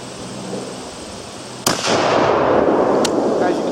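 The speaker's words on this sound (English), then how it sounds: "Safety off, finger off the trigger until I'm ready to shoot." A single loud gunshot from a Remington 798 bolt-action rifle fired outdoors, a sharp crack followed by a long rumbling echo and a fainter second pop, with steady background hiss.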